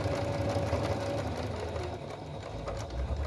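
A sewing machine runs steadily while stitching double bias binding onto the edge of a quilt, a continuous low mechanical whir and hum that stays fairly quiet and even throughout, with no talking.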